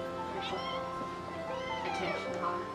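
House cat meows repeatedly, close by, during the opening of a box, over a steady background with some talk-like sounds mixed in.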